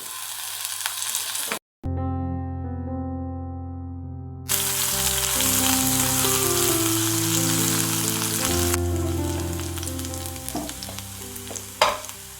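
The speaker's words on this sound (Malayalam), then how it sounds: "എണ്ണ ചെറുതായിട്ടൊന്ന് ചൂടാകുമ്പോൾ ഒരു 1/2 ടീസ്പൂൺ വെളുത്തുള്ളും കൂടി ഇട്ട് കൊടുക്കാം." Garlic, ginger and green chili fry in hot oil in a pan, a steady close sizzle that runs throughout under soft background music.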